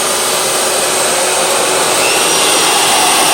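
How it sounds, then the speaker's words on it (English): A shop vacuum and a Shaper Origin handheld CNC router run together at a community makerspace, giving a loud, steady broadband whine and rush that holds constant throughout. "And then I'm going to turn on the shop vac. I'm going to turn on the router."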